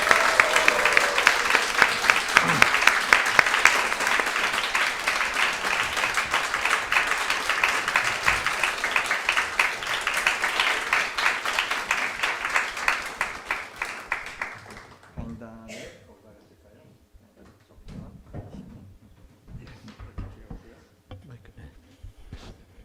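A large lecture audience gives a professor a welcoming round of applause, dense and sustained clapping that slowly thins out and fades after about fifteen seconds, with a few scattered claps and some talk afterward.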